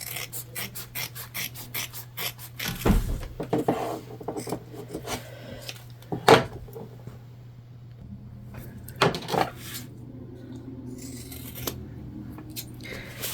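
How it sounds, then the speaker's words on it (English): Fabric shears trim the seam allowances on the lining of a sewn sling bag, giving a series of crisp snipping cuts, quick clusters and a few louder single snips, close and clear over a low steady hum. "I'm going to trim down the seam allowances, especially on the lining here."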